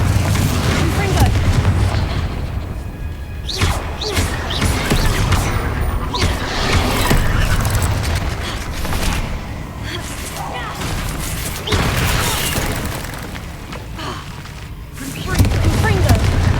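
Bombarda and Confringo spells go off again and again in Hogwarts Legacy, each one a loud, heavy booming blast. A voice shouts over the barrage, which keeps up its uneven rhythm throughout.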